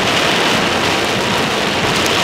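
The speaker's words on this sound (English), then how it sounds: "right in the rain." Heavy rain pours during an Alabama storm, a dense, loud, continuous hiss of drops drumming on surfaces with no pauses.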